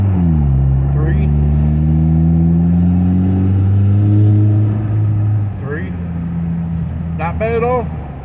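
A 2021 Chevy Silverado with the 2.7 turbo engine and its muffler swapped for a straight pipe accelerates on the road. The engine drone climbs steadily in pitch through the gears and then eases off, with brief talk near the end.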